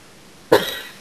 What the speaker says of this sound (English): for some reason I just started coughing